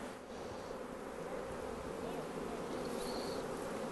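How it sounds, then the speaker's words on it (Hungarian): Honeybees swarm over brood frames lifted from a hive, a dense steady buzz of many insects close by throughout, with no talk. "igen, az a sok méh."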